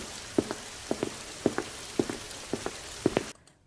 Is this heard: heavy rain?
yes